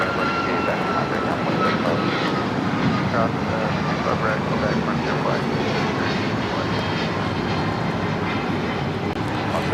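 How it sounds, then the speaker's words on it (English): An Alaska Airlines Boeing 737 MAX 9 taking off at LAX, a loud, steady jet engine roar lasting the whole stretch with no break. "This is Alaska Airlines 288 taking off to New York on the MAX 9."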